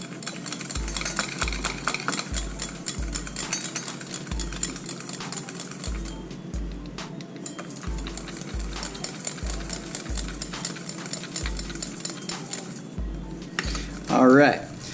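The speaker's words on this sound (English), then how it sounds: "we're going to start beating the egg and slowly adding in a touch of the rice to it" An egg is beaten with a utensil in a bowl while hot rice is slowly added for rice pudding, giving steady rhythmic clinking strokes at close range, with a short voice near the end.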